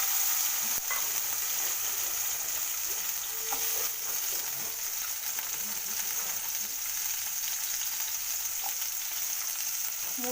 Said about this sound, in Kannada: ಈಗ ಅದೇ ಬಾಣಲೆಗೆ ಒಂದು ಈರುಳ್ಳಿ ಹಾಕ್ಕೋತೀನಿ.